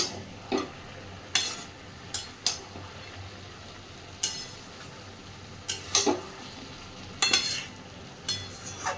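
Cabbage frying with a fish head in a pan, with scattered, distinct stirring scrapes and clinks of a utensil against the pan over a low, steady sizzle.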